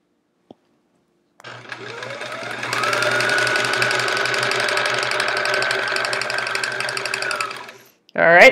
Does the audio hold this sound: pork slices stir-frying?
no